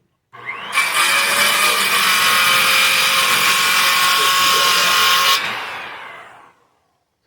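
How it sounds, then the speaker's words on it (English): A borrowed bandsaw cuts through wood with a loud, steady buzzing whine that lasts about five seconds. The motor then spins down and fades out. "I dug out this friend of mine's bandsaw that he had left here"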